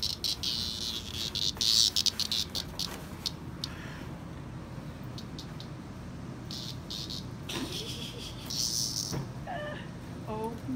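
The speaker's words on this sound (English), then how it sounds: "Buddy, let go of the cicada." Cicada buzzing loudly in a droning, pulsing rasp as a cat pounces on and pins it under a paw, with intermittent bursts close by and brief chirps near the end.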